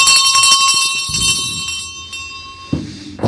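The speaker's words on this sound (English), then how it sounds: "you start the show with beating with your bell" A hand bell rung at the start of a radio show, a loud bright ringing tone that sustains and fades, then a second strike near the end, heard alone.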